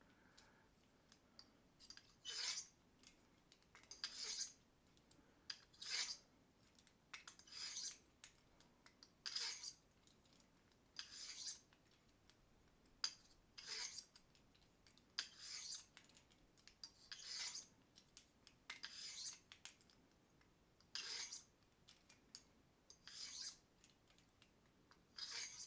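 A Simmons broadhead is sharpened on a stone, giving quiet, intermittent scraping strokes in short bursts with pauses between them, faint and close.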